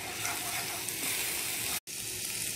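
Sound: garlic and ginger paste frying in oil

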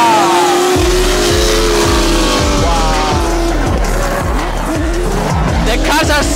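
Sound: car drifting with tire squeal

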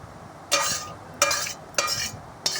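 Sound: stirring doi katla curry with garam masala in a pan

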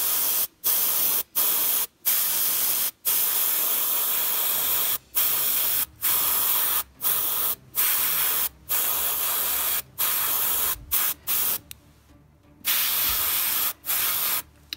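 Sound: Sparmax airbrush spraying paint with compressor

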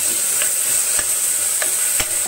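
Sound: onion and tomato sautéing in a pan

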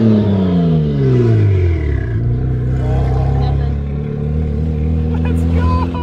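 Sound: car engine revving on downshift

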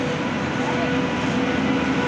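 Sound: train ride to Vijayawada

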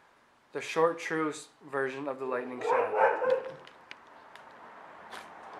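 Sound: dogs barking

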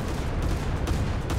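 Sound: naval AA gunfire in War Thunder, a video game

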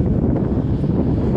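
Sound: strong wind

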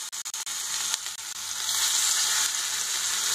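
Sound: fish pieces frying in hot oil in a pan

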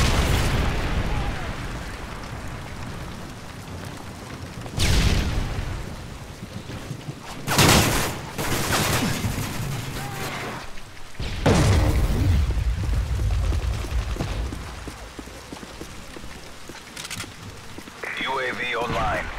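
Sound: Predator missile explosion in Call of Duty Modern Warfare 3 video game

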